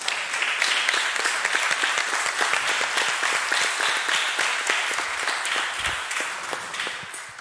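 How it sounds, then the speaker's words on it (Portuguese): Congregation applauding at a Bible study gathering, dense steady clapping from a sizeable crowd sustained at an even level throughout, close and loud with no talk over it. "Você pode aplaudir Jesus aí, gente?"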